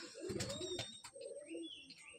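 A Madrasi pigeon coos softly in a loft, low rolling coos with faint chirps, fairly quiet and close.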